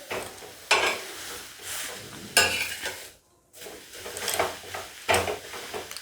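Pumpkin leaves being stirred and flipped on a hot griddle (tava), a steady close sizzle broken by repeated scraping strokes of the spatula and one brief pause.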